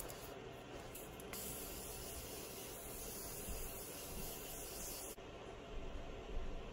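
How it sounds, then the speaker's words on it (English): Morphe setting mist sprayed onto a face gives a steady, soft, close hiss of fine spray that carries on for several seconds with no talking. "now I'm going to set my face with my Morphe setting mist."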